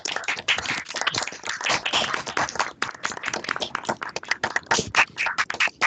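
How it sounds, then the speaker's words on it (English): Webinar attendees clap over their open microphones, producing a scattered, uneven patter of close individual claps from many separate feeds that overlap irregularly for several seconds. "please turn on your microphones and give our presenters a big round of applause for this report."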